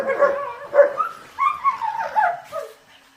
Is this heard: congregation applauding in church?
no